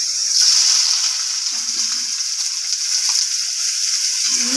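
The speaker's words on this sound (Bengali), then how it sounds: "এগুলো একটু ভেজে নেবো" Potatoes and finely chopped onions fry in hot oil in a pan, giving a steady bright sizzle throughout, with faint soft stirring scrapes underneath and no talking.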